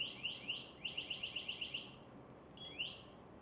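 Alarm on an MSA G1 SCBA control module: a series of sharp, high electronic chirps, first a few spaced beeps, then a rapid run of about ten, then a last tone, loud and close with no talk.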